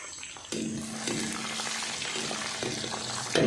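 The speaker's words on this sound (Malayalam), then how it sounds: "ആ വെളുത്തുള്ളി നമുക്ക് ആ എണ്ണയ്ക്കകത്തോട്ട് ഇട്ട് കൊടുക്കാം." Garlic dropped into hot oil for Malayali beef pickle, a close, steady sizzle and crackle that jumps up as it hits the pan, with faint stirring and no voices.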